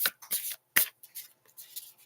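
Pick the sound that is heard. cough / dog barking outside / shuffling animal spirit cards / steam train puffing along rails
shuffling animal spirit cards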